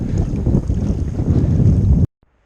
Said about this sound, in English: The wind's gonna smash us.